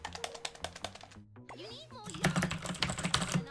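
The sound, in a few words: typing on a computer keyboard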